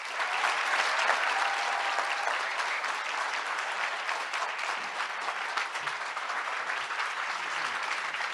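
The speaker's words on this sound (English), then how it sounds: "Can we give a very large WE round of applause for Mr." An audience applauds Martin Luther King III at a WE Speaks event, with steady, dense clapping that holds loud and even throughout, without a break.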